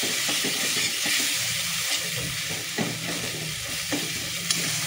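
Ginger garlic paste frying with onion and tomato in a pan, a steady broadband sizzle with stirring scrapes throughout, close and continuous with no talking.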